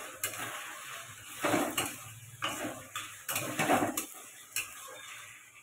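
A pan lid lifted and handled while cabbage and potatoes fry, several close metallic clanks and scrapes in an uneven rhythm over a faint sizzle.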